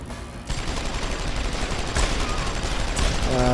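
Gunfire in Deus Ex: Human Revolution, a revolver fired during a boss fight, with dense continuous battle noise and several sharp shot transients, loud and close throughout.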